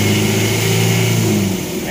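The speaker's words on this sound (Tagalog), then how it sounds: "Tapos marinig mo yung makina mo, wow!" Car engine treated with an anti-smoke engine additive revs hard at high RPM, a loud, steady mechanical roar with strong low harmonics holding throughout and easing slightly at the end, with no talking.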